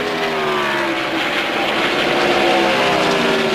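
NASCAR stock car at Pocono during the 2000 race, a loud sustained engine drone with shifting tones as the car slides across rain-soaked grass, steady and close throughout.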